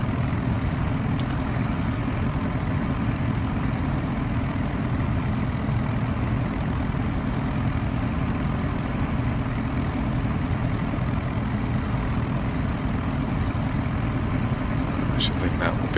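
Simulated aircraft engine in X-Plane 11 during taxiing on a Norway route from Svolvaer to Bardufoss, a steady low droning hum throughout, moderately quiet with no breaks.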